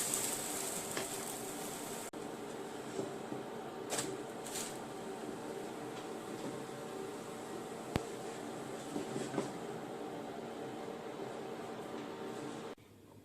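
A lentil wrap cooks in a flat pan with a steady, faint sizzle, an even frying hiss that runs throughout with a couple of soft knocks and no voices.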